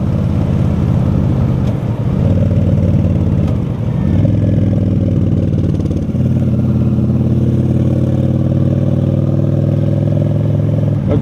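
A motorcycle engine drones loud and steady at highway speed, about 70 to 75 mph in fifth gear, its top gear, with a buzzy, high-revving note that shifts pitch slightly as throttle changes, with wind noise underneath.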